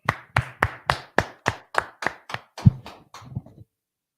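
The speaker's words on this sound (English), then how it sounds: "Let's clap it up." An audience claps together in steady, rhythmic unison, about a dozen crisp claps that slow and soften before stopping, in an indoor gathering for a Hebrew language class.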